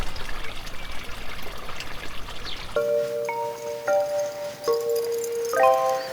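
A garden stream trickles steadily in a continuous wash of water, then soft melodic music tones come in over it partway through.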